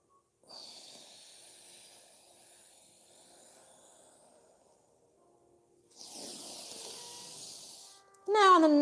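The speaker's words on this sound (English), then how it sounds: "Follow your breath inhaling up and exhaling down" A slow, audible inhale and exhale during a yoga session, soft airy breaths close to the microphone with a quiet gap between them, before a voice begins speaking at the end.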